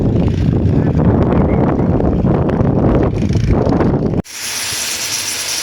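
Strong wind buffets the microphone in a steady, low roaring rumble, then cuts off abruptly to a quiet hiss.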